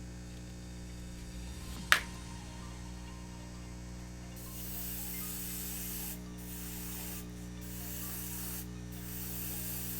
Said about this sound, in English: And the airbrush is cutting so many seconds out of this paint job for us.